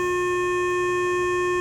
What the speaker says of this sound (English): So here's a sawtooth wave,